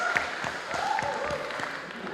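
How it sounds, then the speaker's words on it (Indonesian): A crowd in a grand hall claps together at an evening theatrical show of traditional children's games, a steady patter of applause with a few sharper claps and faint voices underneath. "Tepuk tangan buat kita."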